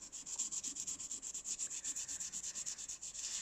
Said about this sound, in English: So I've got my 600 and I'll start sanding here.